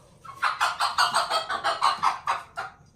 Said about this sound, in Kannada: ಈಗ ಈ ಕೋಳಿಯನ್ನ ಮಂತ್ರ ಗಿಂತ್ರ ಮಾಡಿ ಕೋಳಿನ ಶಬ್ದ ಮಾಡ್ತಾ ಇದ್ದೀನಿ